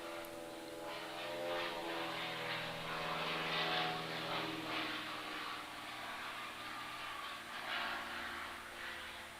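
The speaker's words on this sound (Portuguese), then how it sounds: "Tá passando um avião aqui." A propeller airplane passes overhead, a steady droning engine that swells gently and fades, with no talking.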